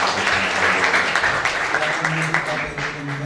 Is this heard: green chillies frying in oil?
no